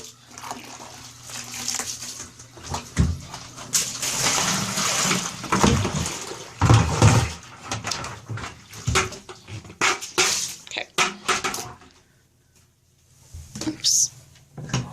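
Dirty wash water from hand-washed cloth diapers is dumped into a bathtub, sloshing and splashing in irregular bursts with a quiet lull near the end and a final splash.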